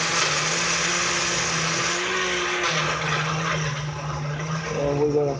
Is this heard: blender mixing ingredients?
yes